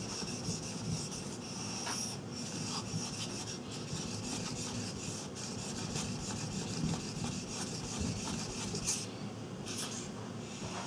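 Bark River knife edge being reprofiled on an abrasive, a steady close rasping and rubbing of steel strokes back and forth, continuous and fairly quiet, with no talking.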